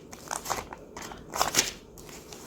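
Cash bills are slid into a paper envelope, producing soft, close crinkles and rustles in short bursts with brief quiet gaps.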